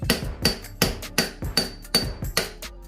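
A small hammer striking a motorcycle chain on a 2020 ZX10R during a 520 chain conversion, about eight sharp metallic taps in a steady rhythm, close and crisp with no talking.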